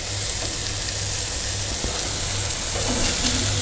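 A steak bun warming on a gas grill produces a soft, even hiss of sizzling, steady and close for a few seconds with a low hum beneath and no talking.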